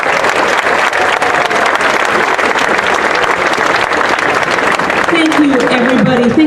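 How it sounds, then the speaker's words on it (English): Dense, steady applause from a crowd at a community rally in Wooster, Ohio, honoring Doug Deacon, sustained at full strength throughout, with a voice speaking over it near the end. "Let's have one more round of applause for Doug Deacon."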